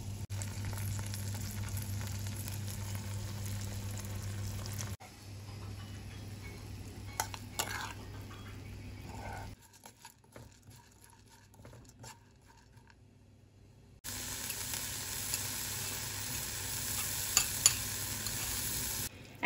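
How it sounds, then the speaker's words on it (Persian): Barberries sizzle in butter and oil in a pan, a soft crackling fry with occasional stirring clinks, fading quieter midway before the sizzle returns louder near the end. "زرشک رو ریختیم، اولی تفت کوچیک میدیم، یکم هم شکر میزنیم که ترش نباشه"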